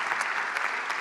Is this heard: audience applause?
yes